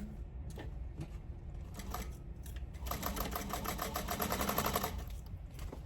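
Sewing machine stitching a tote bag, starting with a few scattered clicks, then running in a fast rattling burst for about three seconds before slowing back to sparse taps.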